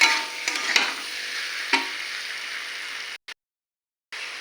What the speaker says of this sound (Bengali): ভালো করে আলুটাকে নেড়ে ছেড়ে কষে নেবো।